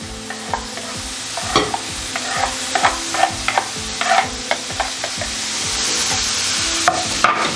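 Mushrooms and bacon fry in a pan over very low heat while a spatula spreads them, giving a steady close sizzle broken by repeated scraping and stirring knocks, with no talk.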